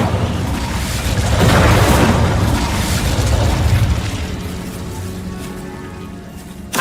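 Incendio fire spell in Hogwarts Legacy, a loud sustained roaring burst of flame that swells early, holds steady for several seconds, then tapers with a sharp pop at the very end.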